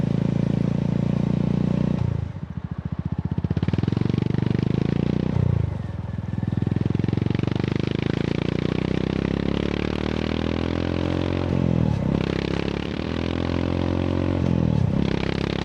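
Honda GB350 single-cylinder motorcycle fitted with a Black Widow 200mm carbon-tip exhaust, engine loud and close throughout, revving up and down with brief dips as the throttle closes and rising pulls as it spins up again.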